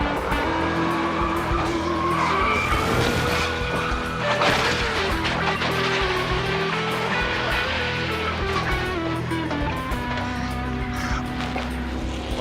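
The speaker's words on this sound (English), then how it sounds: "An easy Sunday drive can turn sideways in the blink of an eye, like Neil Bonnet's ride back in 1993." A NASCAR stock car crashes on a tri-oval in a 1993 race, with loud roaring engines, long screeching tire skids and a crunching impact, under crowd and track noise throughout.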